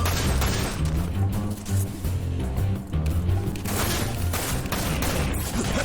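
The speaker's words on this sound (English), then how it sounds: "He just runs head on into gunfire." Gunfire and explosions from the video game Dirge of Cerberus: Final Fantasy VII: rapid, dense bursts of shots mixed with heavy booms and crashes, continuous and loud throughout with no talk.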